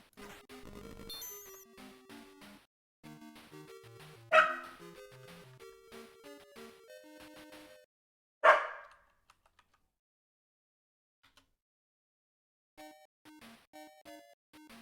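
A Sega Master System video game plays bleepy chiptune music, with two loud, short synthesized dog barks cutting in, separated by a few seconds. The music pauses briefly, then resumes.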